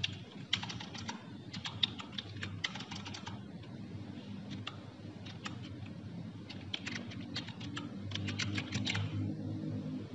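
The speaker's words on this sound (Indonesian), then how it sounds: "Oke, ketikkan di sini passwordnya." Keys clatter in quick bursts of typing on a computer keyboard as a Wi-Fi password is entered, with short pauses between runs over a steady low room hum.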